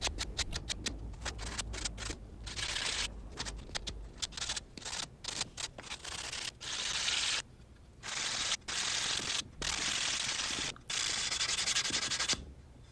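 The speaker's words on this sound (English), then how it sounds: "Is it worthwhile to include some sanding in this video?" Hand sanding a wooden Japanese-style lamp frame with castle joints, a steady raspy scrubbing in rapid strokes that comes in bursts with short pauses, close and loud.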